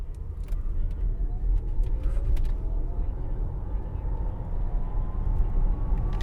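An Audi e-tron electric SUV accelerates hard from a standstill toward 60 mph, with a low road and tyre rumble and a faint electric whine rising steadily in pitch, heard from inside the cabin.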